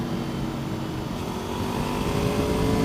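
A motorcycle rides along a local country road, its engine a steady, continuous drone close by, with wind rush and road noise holding level throughout and no talking.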